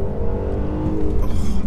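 A 2019 Mercedes E450 coupe accelerates hard in first gear, its engine note a loud, steady, rising roar that swells near the end of the short burst.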